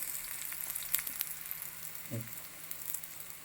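Fried kera fish pieces sizzle quietly in Kerala-style pickle masala in a pan. The hiss is faint and steady with small crackles, and a single soft clunk of a spoon or pan comes midway.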